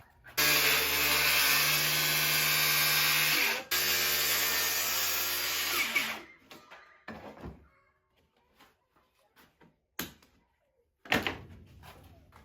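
A power tool cuts through plywood for a vintage Smith Built truck canopy restoration: a loud, steady saw roar for about six seconds with a short dip midway, then scattered knocks and clatter as pieces are handled.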